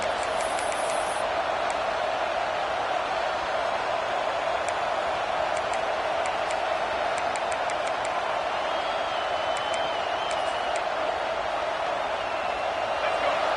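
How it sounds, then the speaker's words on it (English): A stadium crowd at a Mississippi State football game, a dense, continuous roar held at a steady loud level for the whole stretch, with faint clicks and a thin whistle-like tone riding on top. "This crowd, full throat, spreading the eardrums and letting them know it's going to be a long day"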